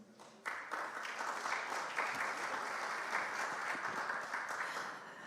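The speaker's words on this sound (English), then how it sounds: "Another round of applause for Dr. Ezekiel Onyango." Sustained applause from a sizable crowd at a conference launch event in Nairobi, steady and fairly loud throughout, with no voices standing out.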